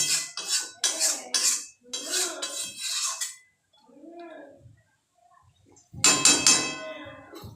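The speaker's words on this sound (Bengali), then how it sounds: "ব্যাস এইটুকুই ঝোল দিয়ে এবার ঢাকা দেব" Lid clatters onto a pot of meat curry with its gravy, with a loud metallic clank near the end after a stretch of nearby talk and softer kitchen knocks.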